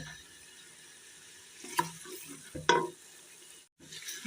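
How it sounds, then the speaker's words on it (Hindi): Spices for beef nihari being stir-fried over a full flame, with faint sizzling broken by a few louder spatula scrapes and clatters against the pot, then a short lull. "इन मसालों को हम अच्छी तरह से भून लेंगे।"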